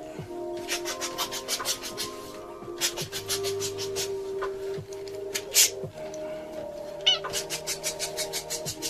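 A pet cat meows insistently at close range, with repeated rhythmic meows over a steady background hum and some rubbing or scratching noises.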